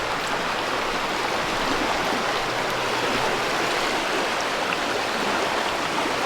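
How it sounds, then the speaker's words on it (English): A swollen river in New England running high after days of drizzle and rain: a steady, broadband rushing of water, even and continuous throughout, with no voices. "You gotta see how high the river is."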